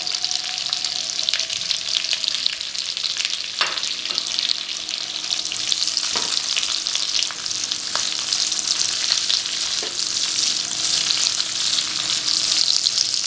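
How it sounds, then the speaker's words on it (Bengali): Onions, capsicum and red bell pepper sizzle steadily in a hot pan, a continuous dense crackle with a few soft clinks of a utensil, no voices. "এগুলো 1 মিনিট মতো ভাজা হবে, তাই তো?"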